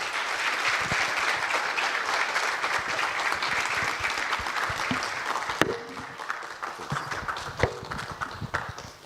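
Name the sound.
audience applause welcoming Professor PLO Lumumba to the stage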